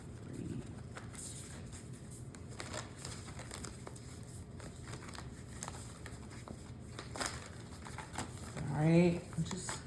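Tarot cards shuffled in a quiet room, a soft run of papery riffling and crinkling throughout, with a louder brief flurry of handling near the end.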